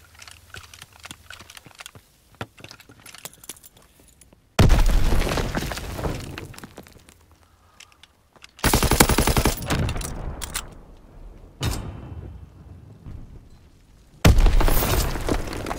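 Bursts of gunfire and explosions from a World War II shooter video game erupt in three loud, dense blasts, separated by quieter stretches of sharp, scattered clicks and distant shots.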